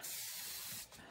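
Water sprayed from a hose onto a painted piece of furniture, a steady broad hiss lasting about a second that eases off slightly near the end.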